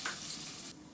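Onion and curry leaves sauté in a hot pan for fried idli, a brief burst of bright, close sizzling that cuts off sharply near the end, with no talk.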